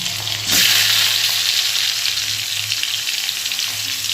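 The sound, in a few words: vegetables frying in oil with black cumin tempering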